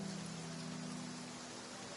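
Steady rain falls in the video game Genshin Impact, a constant hissing wash with no pauses, heard alone.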